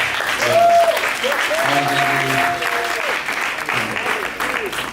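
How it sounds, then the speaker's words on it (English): Audience giving the kitchen crew a round of applause, steady crowd clapping with sustained tonal hum and voices layered underneath. "Would you guys turn around and give them a round of applause?"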